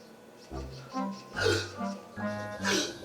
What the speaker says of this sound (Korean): 계속되는 딸꾹질에 남자도 힘겨워 보입니다.